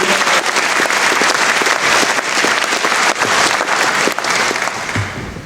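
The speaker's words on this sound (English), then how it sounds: "Can we big them up with a mighty round of applause" Loud, sustained clapping and cheers fill a university graduation ceremony hall, a dense crowd sound that tapers off toward the end.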